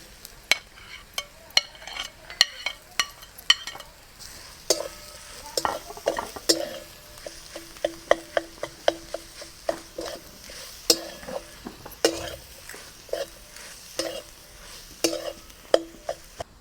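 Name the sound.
stirring mashed potato into fried spices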